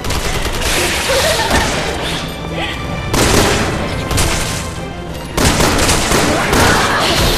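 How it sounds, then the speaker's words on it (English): Loud, dense blasts and crackling bursts from an incendiary grenade going off in Resident Evil 6, a continuous roaring barrage with abrupt shifts in intensity and no talk over it. "Incendiary grenade."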